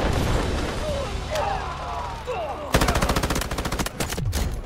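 Light machine gun fire in the mobile shooter game Delta Force Mobile, with scattered shots and then a rapid sustained burst of rhythmic gunfire, loud and close over game noise.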